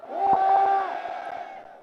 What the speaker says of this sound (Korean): 조국 당 대표님께 다시 한번 큰 함성 부탁드립니다